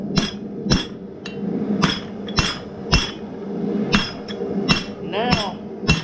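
Hammer blows forging a leaf on an anvil in a blacksmith shop, sharp metallic strikes landing in an irregular rhythm of about a dozen hits, close and loud, with a short ringing tone near the end.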